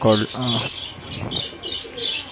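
Soft pigeon coos repeat a few times in a low, rounded tone, with light chirps and rustling in the background of a busy bird market area where various pigeons are kept for sale.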